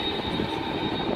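An airplane near Songshan Airport in Taipei, taking off or landing, roars as a steady, loud, broadband engine rumble that fills the whole moment without a break.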